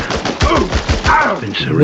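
Gunfire in the video game Chernobylite 2: Exclusion Zone, a rapid series of sharp shots in bursts with a dense, loud rattle and no pause in the firing.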